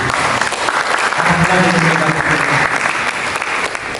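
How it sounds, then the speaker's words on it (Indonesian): A church congregation applauds loudly and continuously during a sermon, the dense clapping filling the space with some voices underneath. "Coba mari kita berikan tepuk tangan bagi Yesus."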